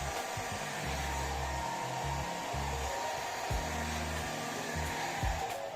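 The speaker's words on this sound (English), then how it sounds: "Dry the hair thoroughly with a hairdryer." A hairdryer blows steadily while drying freshly cut hair at home, a constant airy whoosh with a low motor hum, its pitch and loudness shifting slightly as it moves around the head.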